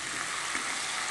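Potato pieces fry in a pan with a steady, even sizzling hiss, close and moderately loud, with no voices.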